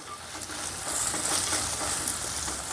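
A spiced mixture with mint and salt sizzles in a pan for Telangana bagara rice while a utensil stirs it, giving a close, continuous frying hiss with scraping.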